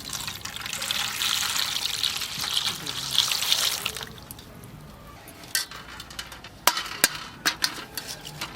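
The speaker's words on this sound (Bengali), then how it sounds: "ডিমে ঠান্ডা জল দিয়ে দেবো" Cold water pours over freshly boiled eggs in a pot, giving a loud, continuous hissing splash for a few seconds, then stopping into quieter clinks and knocks in a home kitchen.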